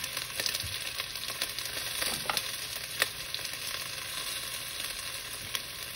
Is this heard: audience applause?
no